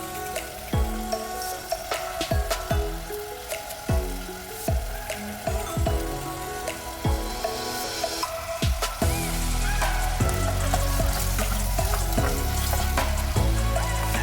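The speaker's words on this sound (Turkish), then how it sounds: "Kavurmaya devam ediyoruz." Vegetables sizzle and crackle in a pot while sautéing for lentil soup, with repeated scraping stirs at first, then a steady louder frying hiss.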